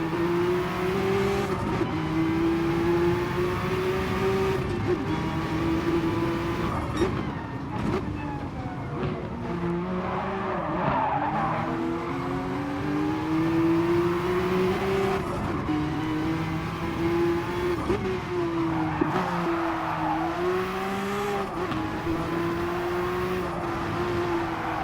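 A race car in a racing video game drives laps on a track, its engine droning steadily with rising and falling revs as it shifts and corners, continuous and fairly loud throughout.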